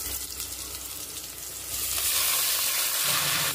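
Gongura leaves land in hot oil with onions, and a steady sizzle swells louder and brighter partway through, crackling close and continuous.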